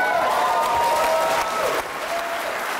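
Loud, sustained applause from a large crowd after a conducting performance, dense clapping with faint sustained orchestral tones underneath, easing slightly toward the end.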